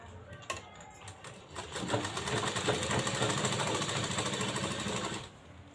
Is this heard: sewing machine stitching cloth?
yes